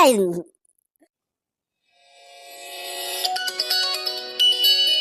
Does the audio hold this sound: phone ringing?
yes